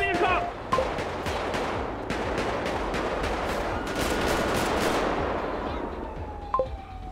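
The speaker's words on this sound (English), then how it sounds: "Shots fired." Rapid bursts of gunfire in a GTA 5 roleplay shootout at a gas station, dense crackling shots over several seconds with a few sharper reports near the end, loud and close.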